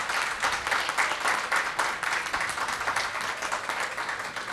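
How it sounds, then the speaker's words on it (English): An audience at a downtown family fun day applauds, a steady wash of clapping from many hands, fairly close and even throughout. "So let's give our Family Fun Destinations a big round of applause."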